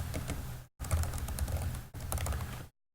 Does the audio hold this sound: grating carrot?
no